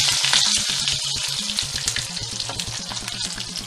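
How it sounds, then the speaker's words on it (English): Steady crackling sizzle of hash browns frying in hot oil, continuous and close, with no voices. "the infamous sizzle of food frying"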